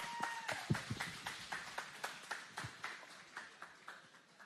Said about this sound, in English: Round of applause for our next panel.